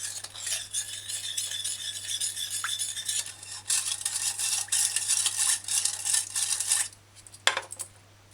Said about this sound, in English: just kind of mix the ingredients in so you can mix out the cornstarch